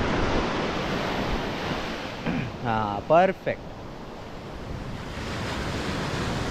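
Sea waves on the Konkan coast roar as a constant broadband surf with wind buffeting the microphone, and a short spoken phrase breaks in briefly midway.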